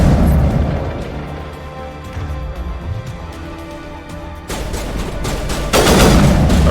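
Gunfire and booming bursts from the game Mass Effect, a continuous rumble of rapid shots that surges louder near the end, with no voices.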